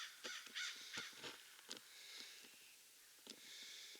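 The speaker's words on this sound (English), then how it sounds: "And you hear the crows and ravens from the dump." Distant crows and ravens caw repeatedly in a loose, irregular pattern beside a dump, over faint outdoor background noise, ending with a brief close click.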